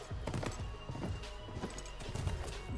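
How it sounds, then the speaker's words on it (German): Horse hooves clip-clop at a steady trot during riding in the video game The Last of Us Remastered, a continuous close rhythmic patter of hoof strikes over a low ambient game background. "Aber wir reiten noch kurz hier"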